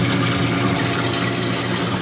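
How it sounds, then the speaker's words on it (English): Water flows steadily through an LED algae scrubber on an aquarium, a constant close rushing wash with no breaks and no talk. "you can see the water is flowing across the screen"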